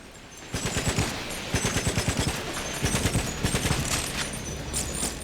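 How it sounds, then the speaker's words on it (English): Gunfire from the video game GoldenEye: Rogue Agent rattles in rapid automatic bursts, loud and close. Rhythmic volleys of shots pile up and then give way to a sustained clatter of firing. "There's someone else here still shooting at me"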